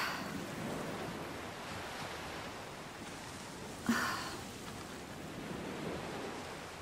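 Sea waves wash continuously in a soft broadband roar, with wind across the microphone and one brief louder surge partway through.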